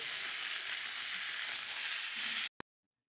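Vegetables frying in hot oil for a home-cooked Bengali meal, a steady broadband sizzle heard close and alone that cuts off abruptly before a brief final burst.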